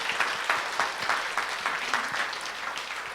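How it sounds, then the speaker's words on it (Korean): A church congregation of parents claps together in sustained applause for graduating and advancing students, a dense, steady patter of many hands without speech. "우리 졸업하는 다음 세대들을 위해서 우리 부모들이 힘껏 박수"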